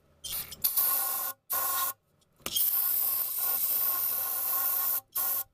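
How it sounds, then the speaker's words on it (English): Carb cleaner hisses from an aerosol can into the carburetor of a Cub Cadet Lo Boy 154 tractor, several close, steady sprays of varying length, one sustained for a few seconds, with short silent gaps between. "spray some carb cleaner into that carburetor"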